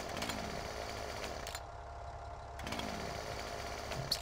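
Chainsaws in Farming Simulator 17 buzz in a harsh, steady drone that cuts out briefly midway and then resumes, with repeated revving swells and no talk over it.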